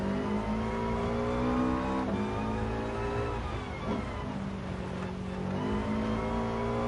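Rally car engine droning and revving in the GT Sport racing game, a steady close tone with small pitch swells as the car is handbraked sideways, no voices.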